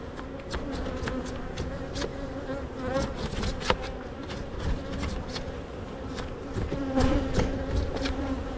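Honeybees buzz steadily around an open hive during an inspection, a close, continuous insect drone with occasional louder passes of individual bees near the ear.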